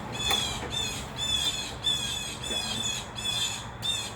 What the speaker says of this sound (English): these fucking birds. Sorry for the swear. There's just so many birds.